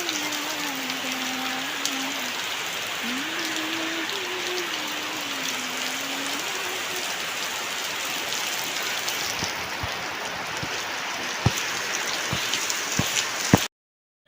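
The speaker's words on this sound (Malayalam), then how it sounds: "ഭയങ്കര മഴയാണ് അവിടെ" Heavy rain pouring outdoors, a dense continuous hiss of drops striking surfaces, close and loud throughout, with a voice humming or talking faintly early on.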